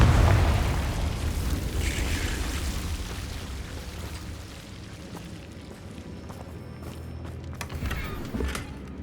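A Confringo fire spell bursts in the Hogwarts Legacy game with a loud, deep boom that rolls into a long rumbling decay, followed by smaller crackles and a second thump near the end.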